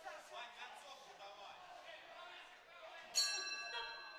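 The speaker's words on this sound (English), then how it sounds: "Bell goes to the end of the round." A boxing ring bell rings once to end a round at a European youth boxing semifinal, a bright ringing ding that cuts through a commentator's steady talk and lingers briefly as it decays.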